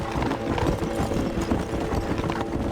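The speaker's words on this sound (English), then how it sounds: "Get on your horses!" Horses gallop in Red Dead Redemption, giving a steady, dense clatter of hoofbeats with constant mid-level noise underneath and no clear voices.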